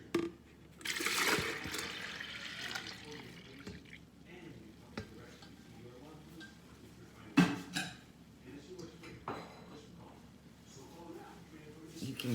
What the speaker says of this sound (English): Then you're gonna pour it in your container.